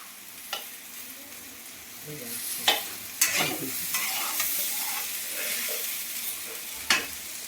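Parboiled potatoes fry in a pan until reddish, a steady hissing sizzle broken by a few sharp spatula scrapes and clacks as they are turned, close and moderately loud.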